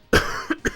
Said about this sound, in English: I don't mean to cough in my hand, but sorry about that.